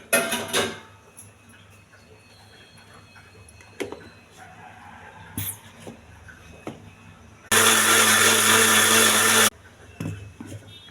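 A mixer grinder jar blends fruit into juice with no water added, roaring loudly for about two seconds after scattered clinks and knocks from handling the jar.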